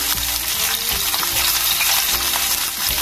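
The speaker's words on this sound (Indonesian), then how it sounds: "Goreng" Fish fries in oil in a Teflon pan, a loud, steady, dense sizzle and crackle throughout with no pauses.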